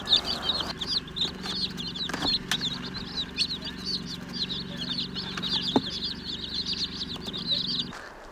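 Chicks in an outdoor off-grid brooder at night give a steady stream of soft, high cheeping peeps near the microphone, with a few faint clucks and light rustling beneath.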